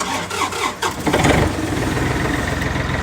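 A tractor engine cranks with a few quick turns, then catches and settles into a steady, even idle, close and fairly loud, with no talking.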